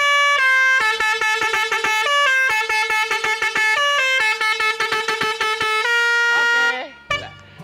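A Basuri musical car horn with its funnel mounted upside down plays a fast, loud melodic tune of repeated honks, close and alone for about seven seconds, then cuts off with a short burst.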